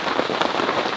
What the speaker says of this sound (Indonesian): Masalahnya sekarang hujan kayak gini, nggak bisa barbekyuan di luar.